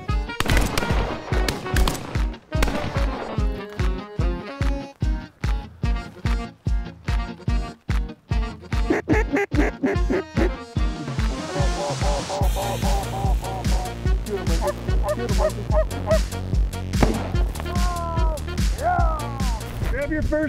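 During a field duck hunt a dense burst of close, sharp gunshots comes first, then a loud, overlapping chorus of ducks and geese calling, with excited voices mixed in among the calls.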